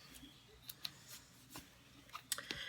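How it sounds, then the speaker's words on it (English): Scissors snip ribbon ends at an angle during a handmade card project: several faint, quick cutting clicks spaced irregularly over low room noise, close to the listener. "Now I'm going to take my scissors and clip these ribbons so that they're at an angle"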